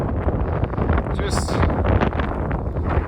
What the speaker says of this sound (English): It's a little windy, but not too bad.